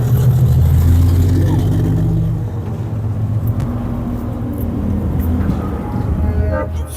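Waikaka Transport truck rolling past in the Labour Weekend truck parade in Invercargill, New Zealand, a loud close engine rumble with steady droning tones while people talk over it.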